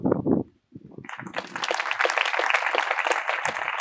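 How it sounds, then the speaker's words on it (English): Audience applause at a 2018 university commencement ceremony for graduates, starting after a brief voice and a pause, then swelling into dense, steady clapping that fills the rest of the room. "give yourself a round of applause for all the hard work that you have done"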